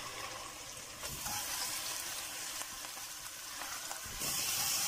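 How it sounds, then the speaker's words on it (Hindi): Mutton pieces sizzle and fry in a pan with garlic and ginger, a steady close crackle with occasional stirring scrapes and no talk. "हल्का सा लहसुन अदरक को भूनने के बाद हम इसमें मटन डालेंगे और उसको भी भूनेंगे।"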